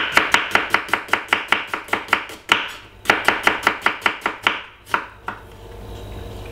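A knife chops a medium-sized red onion on a cutting board in fast, even strokes, a run of sharp close knocks, a brief pause, then another quick burst trailing off into a few slower cuts.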